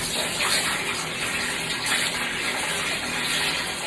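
Liquid pours steadily into a 15-liter kombucha vessel, a loud, continuous gushing splash with no talk.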